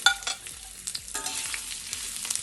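Ginger drops into a hot South Indian tempering of oil and curry leaves and sizzles with a steady close crackle while a spoon stirs and scrapes the pan in bursts.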